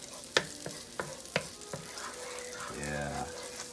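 Garlic frying in half a stick of butter with avocado oil in a pan: soft sizzling under a few sharp utensil clinks and stirring scrapes, close and fairly quiet.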